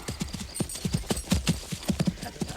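Horse hooves clip-clop in a steady, even rhythm as a stately procession sets off toward a castle, each strike close and distinct, with a faint whinny somewhere in the mix.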